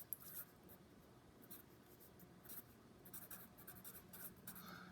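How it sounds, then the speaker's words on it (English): A pen or pencil writes on paper in a quiet room, giving soft, close scratching strokes in short bursts with no speech. "I'm going to go ahead and write that."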